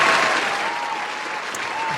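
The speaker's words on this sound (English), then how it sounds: "Let me hit the round of applause because that's important." Loud, dense burst of applause triggered as a sound effect on a podcast-style show, a continuous crowd clapping wash that stays strong from start to finish, with faint voices beneath it.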